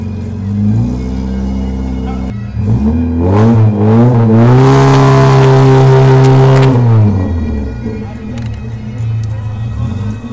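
A Morgan 4/4 with a four-cylinder engine and a replaced exhaust pulls away while driving, giving a loud, close engine and exhaust rumble that climbs in pitch through a gear, peaks, then settles back, with people talking over it.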